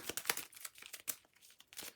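A deck of enhancement cards from the Folklore: The Affliction board game being shuffled: a quick run of close, crisp papery riffles and crinkling snaps in an uneven rhythm, with no talk.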